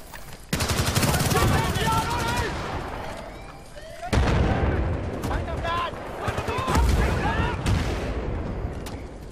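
Gunfire from the video game Battlefield Bad Company 2 during a rush match on chokepoints: dense bursts of rifle and machine-gun fire with sharp cracks and explosions, loud and continuous across the whole stretch, with a sudden heavy blast midway.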